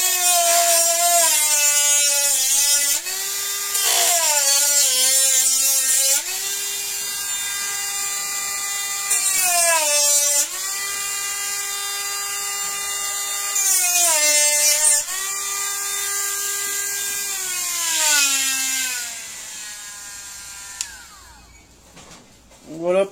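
Cordless rotary multitool cutting into material: a loud high whine that rises and falls in several strained bursts, each bogging down under load and then recovering, before it spins down at the end.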